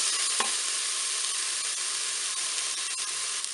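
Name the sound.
onions frying with curry in a pan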